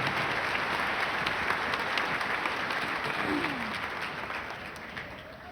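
A graduation audience at a junior high ceremony applauds steadily for the school board vice president, a dense wash of many hands clapping that fades slightly toward the end.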